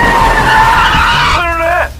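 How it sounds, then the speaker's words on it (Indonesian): A car brakes suddenly with a loud, sustained tire screech whose pitch slides downward over about two seconds before stopping abruptly, close and forceful over a low engine rumble. "tiba-tiba mobil dua bersaudara itu berhenti mendadak"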